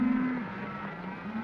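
A cattle herd on a cattle drive gives a short low moo, close and clear over a quiet background hum, with no talk.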